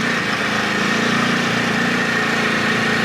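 A 2022 Ducati Desert X motorcycle engine runs steadily in touring mode on wet rocky off-road ground, a continuous loud droning rumble with a low throb that holds even and near throughout.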